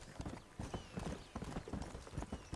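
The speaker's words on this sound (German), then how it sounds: "Das Pferd haut ab." Galloping horse hooves in Red Dead Redemption, a rapid, loud clip-clop rhythm of a horse running off through the woods during a hunt, with a brief whinny-like tone.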